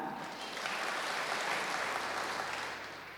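Church congregation clapping during an Indonesian online worship service, a broad steady wash of applause that rises and holds for about three seconds before easing off, with no voices over it.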